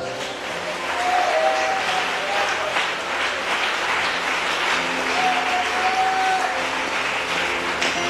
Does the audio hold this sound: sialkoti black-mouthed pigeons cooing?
no